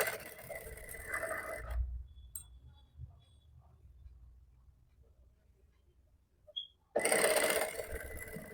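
Sewing machine stitching along a suit seam while a tight suit is let out: a steady mechanical whirr runs for nearly two seconds, stops for a long quiet stretch with faint handling noises, then starts again loudly near the end.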